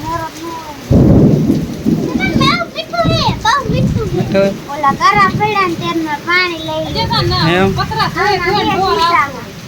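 Heavy rain pours steadily with a loud thunder rumble near the start, while people, including a child, talk over it.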